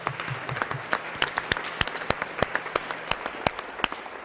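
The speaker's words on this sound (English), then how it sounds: "well, just clap for him anyways." An audience claps for a calligraphy artist at a talk on religion, a sparse, moderate applause of distinct individual claps that is fairly close and carries on steadily for a few seconds with no one speaking.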